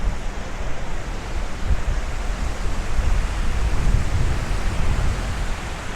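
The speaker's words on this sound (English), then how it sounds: "So the wind, as you can probably hear, it's about 15 miles an hour today." Steady wind on the Las Vegas Strip on a day with gusts around 15 miles an hour, a continuous broadband rush and low rumble buffeting the microphone, with no speech.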